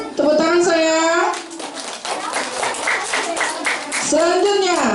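Children and audience at a kindergarten graduation in Linge, Aceh Tengah, clap in a scattered burst of applause, while a voice speaks over the clapping throughout.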